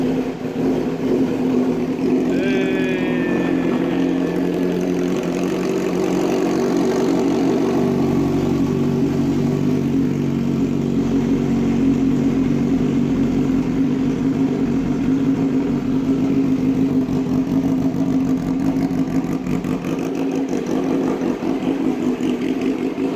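A restored Kawasaki Ninja 636 motorcycle engine runs steadily for over twenty seconds, a constant mid-pitched idle hum with slight rev variation throughout, close and fairly loud.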